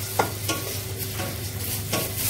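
Whole spices, including chili, bay leaf, cumin, cardamom seeds and husks, black pepper and cloves, sizzle and crackle in a hot pan. A spoon scrapes and stirs through them in a few distinct strokes, close and fairly loud, with no voices.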